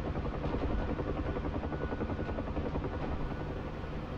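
Bell UH-1 helicopter coming in to land in a video game, its rotor thumping steadily and loud with a dense, continuous engine roar throughout, no voices.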